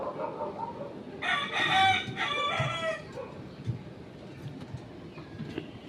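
Rooster crowing loudly nearby at dusk over a backdrop of clucking chickens, with steady outdoor ambience; a second crow follows close behind the first.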